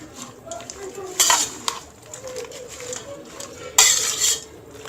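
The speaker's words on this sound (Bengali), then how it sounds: "আমি এবার এগুলোকে মिক্স করে নিচ্ছি ভালো করে" Minced meat worked together with spices in a bowl for kebab, a spoon scraping and clinking against metal in a few sharp bursts between softer mixing sounds.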